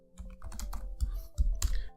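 Rapid keystrokes on a computer keyboard, a run of close, fairly loud clicks with a few heavier key hits, alone with no talking.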